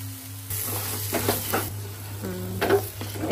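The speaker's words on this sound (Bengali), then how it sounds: "এইভাবে একদম খুব ভাজা ভাজা করতে হবে" Khuksa sizzles and fries in oil in a pan while being stirred, a steady close hiss broken by soft scraping and clinking of the utensil against the pan.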